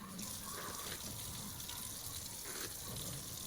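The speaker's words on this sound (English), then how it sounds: "I'm just gonna rinse the conditioner out with some cool water" Cool tap water runs steadily while conditioner is rinsed out of a frontal wig at a sink, a continuous broadband splashing hiss close by with slight surges, no talking.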